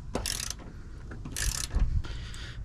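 Ratchet turning an 11mm socket to remove seat bolts in a 2007 Chevrolet Silverado 1500 Classic, a few short bursts of rapid clicking separated by pauses, close to the microphone.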